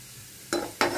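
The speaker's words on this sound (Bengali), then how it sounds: "বিশেষ করে পাতলা খিচুড়িতে ফোড়নটা যদি বেশি দেওয়া হয়, লাল লাল করে ভাজা" Onions fry in hot oil for a khichuri tempering, with two sudden bursts of loud sizzling as ingredients hit the pan, following a quiet start.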